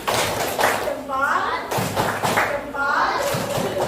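A fifth-grade class claps together in a rhythmic cheer, a dense run of close hand claps and thumps mixed with children's chanting voices.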